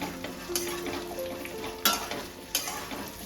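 Potatoes with chopped bottle gourd and slit green chillies frying in a pan for a Bengali curry, a steady sizzle broken by three sharp scrapes of a spoon stirring against the metal, close and alone.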